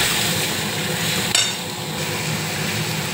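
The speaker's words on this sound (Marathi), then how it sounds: "आता मी यात टाकतो टमाटर, टमाटरला पण भाजून घेऊया" Tomatoes roasting in a pan for chana masala, giving a steady close hiss of frying with one brief clatter partway through.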